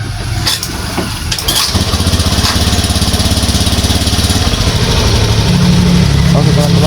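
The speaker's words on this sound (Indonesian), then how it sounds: "Selanjutnya kita akan tes hidupkan motornya." A Honda fuel-injected motorcycle, previously prone to sputtering and stalling, cranks and catches, then settles into a steady, close, rumbling idle that continues to the end. A brief clatter accompanies the start.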